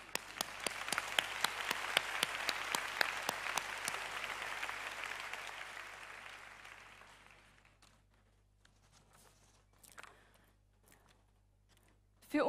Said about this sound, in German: Das beeindruckt mich sehr und möchte einen großen Applaus aussprechen.